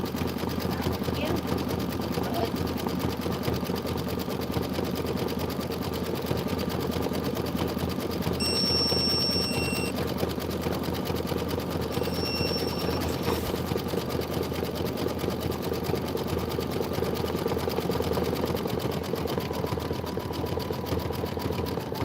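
An embroidery machine sews a satin stitch with a steady, rapid mechanical chatter that runs throughout, while people talk quietly alongside it.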